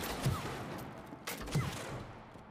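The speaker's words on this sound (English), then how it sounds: "Can you shoot that target?" Two gunshots fired at a target in the co-op video game It Takes Two, sharp bangs about a second and a half apart, each with a short low thump and a faint ring-out over a steady game-audio bed.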